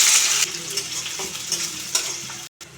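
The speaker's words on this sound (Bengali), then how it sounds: "এবার কেটে রাখা পেঁয়াজগুলো দিয়ে দিলাম।" Chopped onions fry in hot mustard oil, a close steady sizzle broken by soft stirring scrapes, cutting out briefly before the end.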